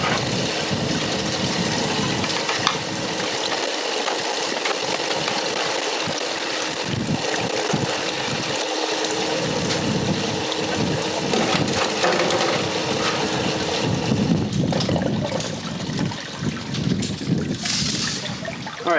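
Water runs steadily over a washer mat in a gold sluice angled at 10.5 degrees with limited flow, a continuous close rushing and trickling wash with no voices.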